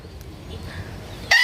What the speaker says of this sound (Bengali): মুরগিটাকে ধরে এখন সাজাচ্ছে